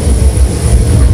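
A loud, steady aircraft engine roar fills the air throughout a military special forces maritime demonstration, a continuous low rumble with a high whine and no speech.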